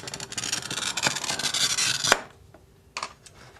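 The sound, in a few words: cutting painted glass into strips for fused glass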